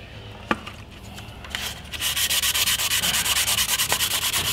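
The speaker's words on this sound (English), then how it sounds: "And you can just sand your carbon out." Wet sanding a carbon composite blade patch with 600 grit sandpaper, starting with a few faint scrapes and then settling into a fast, even back-and-forth rubbing rhythm, close and loud with no talk.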